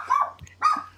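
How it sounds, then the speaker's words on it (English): A dog barks twice in quick succession, fairly close and loud, with a short pause between the two bursts over a low steady hum; no one speaks. "damn dog"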